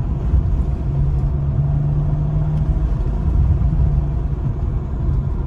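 A tuned BMW 435i running MHD Stage 2 with over 400 hp pulls hard in third gear, a loud, steady low engine roar with a rising tone partway through, sustained close-up inside the car.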